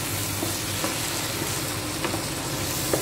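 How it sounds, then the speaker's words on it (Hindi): Vegetables for a veg roll sizzle and crackle steadily in a hot pan over a high flame, a loud continuous frying hiss with faint scrapes of stirring and no voices. "तो ये देखिए सब्जियां हमारी लगभग भून चुकी हैं, अब बस इसे एकदम हाई फ्लेम पे एक मिनट तक और भून लेते हैं"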